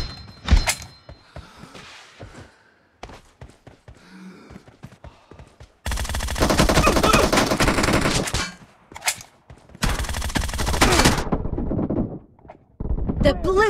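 Gunfire in the PUBG Mobile game during a solo-versus-duo team deathmatch in a custom room: scattered single shots and short bursts, then two long dense stretches of rapid automatic fire, loud and close.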